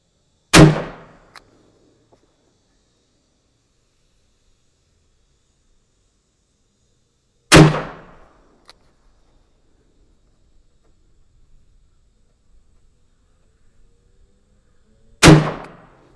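Three sharp revolver shots from a Rossi RM66 fired outdoors at 20 yards, each a loud crack with a short decaying tail, spaced roughly seven seconds apart with near-silence between.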